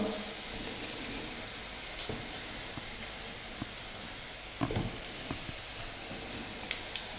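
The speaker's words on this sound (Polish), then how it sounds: "Smażymy nasze parówki" Steady sizzling and spitting of sausages frying in a hot pan, a constant hiss with occasional sharper pops and crackles, close up.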